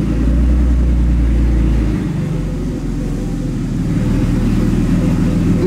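A car engine rumbles low and steady while the car is manoeuvred into a parking spot, the drone close and continuous with a slight dip midway and no talking.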